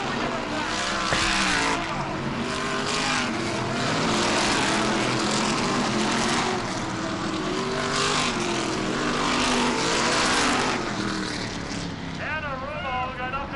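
Race cars on the final lap of a New England short-track race, roaring engines blended with crowd noise under an excited commentator's continuous talk.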